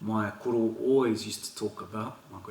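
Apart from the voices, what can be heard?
None of the usual background noises is heard.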